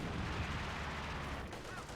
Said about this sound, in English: Sniper opening fire.